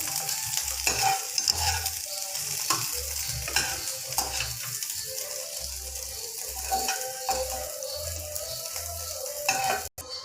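Soybean chunks fry in oil in a pan until lightly browned. A loud, steady sizzle runs throughout, with a regular pattern of low knocks from stirring.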